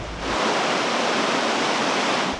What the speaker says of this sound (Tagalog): Kanina, habang umiikot kami sa mga maaapektuhang lugar, biglang bumuhos ang ulan.